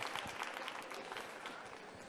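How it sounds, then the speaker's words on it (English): An audience at a science slam applauds the participants with a soft, fairly faint patter of many hands clapping at a steady, even level, heard alone from start to finish. "another round of applause for the slammers, please"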